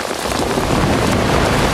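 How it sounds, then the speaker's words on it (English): Heavy rain pours down in the American West, a dense, loud, continuous hiss of drops with no voices. "It just started raining about"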